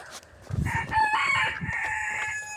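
A backyard rooster crows once, a loud, drawn-out call close by, preceded by a brief lower clucking.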